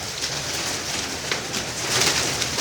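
Pigeons kept in a loft of pigeons for sale, cooing faintly through a steady hiss of ambient noise, with no voices present.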